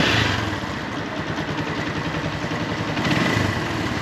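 Keeway Cafe Racer 152 motorcycle engine idling with a suspected timing chain or tensioner fault, a steady loud rattle and ticking heard close up with no talk.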